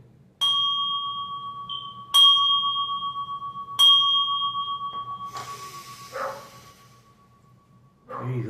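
A bell is struck three times, each time ringing out clear and close with a long, slowly fading tone, followed by rustling and soft handling sounds.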